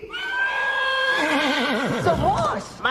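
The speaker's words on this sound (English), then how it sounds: "The horse." A loud, close horse whinny, long and quavering, rising then trembling downward before ending with a snort.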